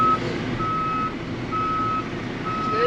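A JCB 3CX backhoe loader reversing, its warning alarm giving four evenly spaced, steady beeps over a low engine hum, heard clearly with no one speaking.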